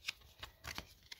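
Pokemon trading cards are shuffled by hand before a card trick, giving a few quick, soft riffling bursts close by and fairly quiet.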